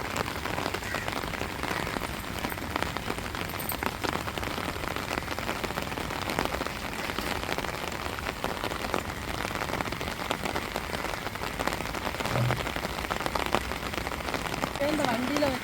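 Steady rain falls throughout on a rural village home, a dense continuous patter of drops on surfaces with no breaks, fairly close and even in loudness.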